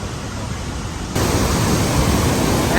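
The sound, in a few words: Niagara Falls waterfall roaring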